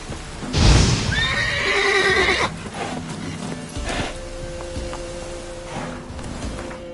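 A horse in The Witcher 3 gives a loud, close whinny that rises and trembles through several harmonics, followed by snorting, hoof clip-clop and rustling movement, with no voices.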